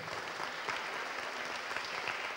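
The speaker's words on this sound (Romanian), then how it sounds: "iar după fiecare nume vă invit să-i aplaudăm" Applause fills a room at a book launch as a crowd claps continuously, an even, busy spatter of many hands at moderate distance, heard alone without speech.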